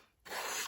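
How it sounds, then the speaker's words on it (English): An emery board rasps across the edge of a paper trimmer blade in one short, soft stroke lasting under half a second, preceded by quiet. "using an emery board."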